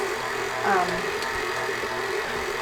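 A heavy duty stand mixer kneading pizza dough at its lowest speed, a steady motor whir under ongoing conversation.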